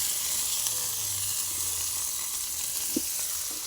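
Tomatoes go into a pan of frying spices with ginger, green chili and ground cumin, giving a steady close sizzle and hiss with a few small stirring clinks.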